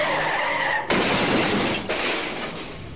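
A car veers out of control up onto a sidewalk: a loud skidding rush with two sharp crashing, shattering bursts about a second apart, then the noise trails off.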